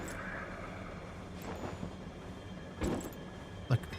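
A low-gravity train in a vampire-shooting Western video game rumbles along steadily, with a few sharp clanks and clacks breaking through the continuous rolling noise.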